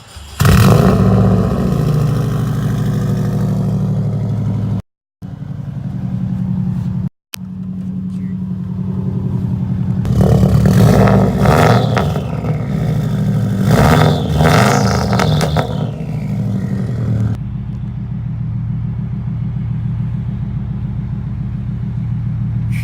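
Loud, close engine note from a 2001 Subaru Outback Sport running with its catalytic converter and muffler removed, a heavy low rumble rising in revs with two brief cutouts, then settling to a steady rough idle.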